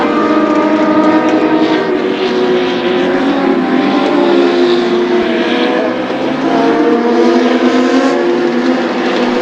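US Legend race cars circle New Hampshire Motor Speedway in a loud, sustained multi-engine drone with shifting pitch as the pack races by, no voices.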